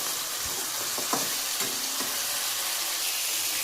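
Food frying and being stirred in a pan over a high flame for chicken curry, a steady dense sizzle with a few soft scraping stirs, close and continuous.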